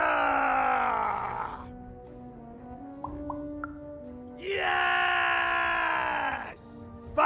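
Two long, strained battle-cry screams from a character in the video game Lost in Random, each held for a second or two with a quiet pause between, ending in a short breathy gasp.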